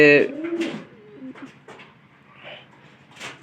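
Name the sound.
pigeons cooing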